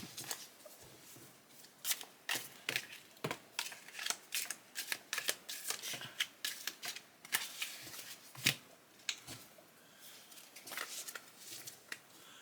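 A large oversized deck of about 200 cards being shuffled by hand, quiet close-up riffling and sliding snaps in irregular bursts with brief pauses, no voices over it.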